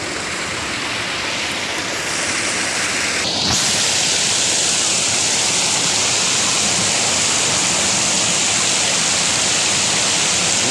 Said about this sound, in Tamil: இதுதான் எங்கள் ஊர் நீர்வீழ்ச்சி.